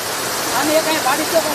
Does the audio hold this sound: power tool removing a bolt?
no